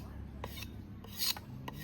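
Bamboo is split and shaved into thin strips for tying rice parcels, making short rasping scrapes at an uneven pace, close and fairly quiet with no talking.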